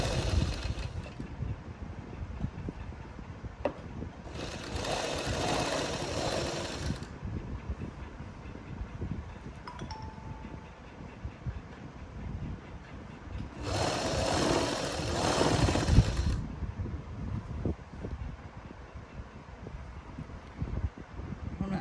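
Sewing machine stitching a sleeve onto a garment in two loud bursts of rapid stitching, each lasting a couple of seconds, separated by quiet handling noise and a low background hum.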